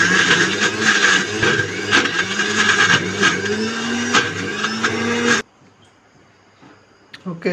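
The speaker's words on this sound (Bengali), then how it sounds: "এই যে ব্লেন্ডারে জারে নিয়ে নিতেছি, একটু ঠান্ডা করে নিলাম, ব্লেন্ডারে দিয়ে দেবো" An electric blender whirs loudly for about five seconds, pureeing cooled cooked greens with mustard oil, its motor pitch wavering as the blades churn, then cuts off abruptly, leaving near silence with a faint clink.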